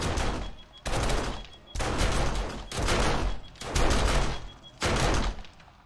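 Automated turrets in the survival game 7 Days to Die fire in loud bursts of rapid gunfire, about six clustered volleys separated by brief pauses.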